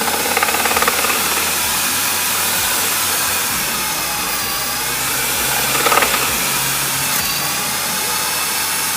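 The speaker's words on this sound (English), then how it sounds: "Bring the drill towards you." A power drill whines continuously at close range, boring into a metal cannon, a steady high-pitched grinding that swells briefly as the bit bites, with no talking.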